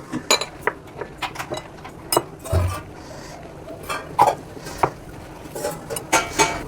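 Shredded cabbage is mixed by hand with chili powder and gram flour in a bowl: irregular close clicks, clinks and soft knocks against the bowl, with quiet mushy rustling in between.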